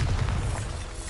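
Bombarda blasting spell in Hogwarts Legacy goes off as a loud, deep explosive boom with rumbling low end that fills the whole short moment, no voices over it.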